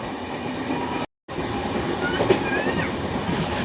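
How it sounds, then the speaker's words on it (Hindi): A freight train rolls past on an Indian rail line, a loud continuous rumble with wheel clatter and faint squeal, heard close, with a brief cut of silence near the start and no talk. "यार ये तो माल गाड़ी निकली।"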